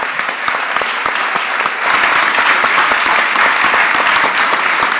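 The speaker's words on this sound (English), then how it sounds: "Let's give a round of applause for the candidates for coming out tonight." Audience in a room at an evening mayoral forum applauds the candidates, a loud, dense round of clapping with some sharp individual claps standing out, building slightly partway through and continuing steadily.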